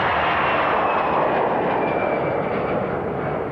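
An Air Inter airliner's jet engines roar steadily through the takeoff run, a loud, continuous broadband rush with a faint whine, filling the clip with no voices.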